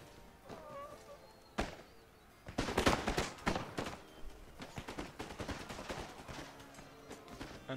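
Pistol volleys crackle through an Empire: Total War siege battle at Constantinople, dense overlapping shots in ragged bursts that build into sustained firing, with a distant, busy battlefield wash and no speech.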